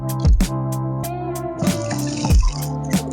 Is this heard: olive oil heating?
no